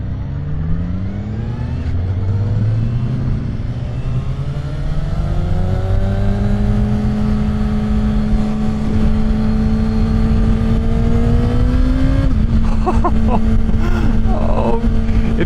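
A high-revving Kawasaki ZX-6R engine climbs steadily in pitch toward 18,000 RPM, loud and close, holding a sustained whine before a brief shift and rev at the end.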